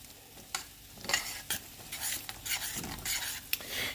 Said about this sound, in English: So I'm just going to go ahead and turn that, spin it, stir it.